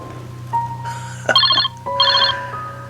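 A telephone ringtone sounding as a sound effect, a steady electronic tone followed by two bursts of bright trilling rings, loud and close with no talk.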